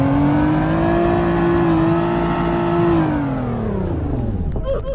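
A four-cylinder sports car engine in the Roblox game Greenville runs close and loud with a steady droning rev, then winds down in pitch as it settles toward idle, with faint voice-like sounds near the end.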